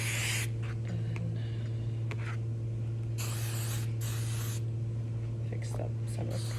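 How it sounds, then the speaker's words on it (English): Hairspray hisses onto a synthetic theatrical wig in short, breathy bursts of spray. A steady low hum and soft rustling handling noises run underneath. "I'm just going to take some hairspray"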